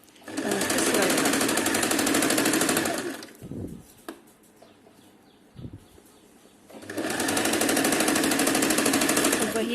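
A sewing machine stitches a kurti in two loud, steady whirring runs at the start and end, with a quiet gap between holding a few soft handling knocks.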